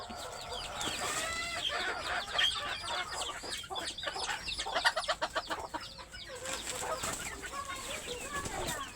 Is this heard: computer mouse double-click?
no